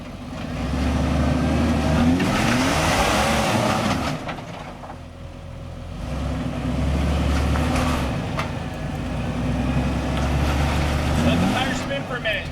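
A Jeep Rubicon climbing rocks at a waterfall trail, its engine revving in surges with tires spinning, loud and close, while people call out directions over it.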